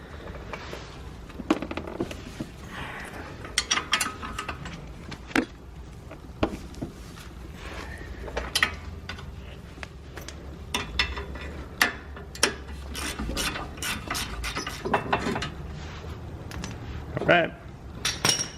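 A ratchet works loose the 17 mm brake carrier bolts on a 2011-2013 Hyundai Sonata Hybrid front brake, giving a series of close metallic clicks and clinks over low background noise.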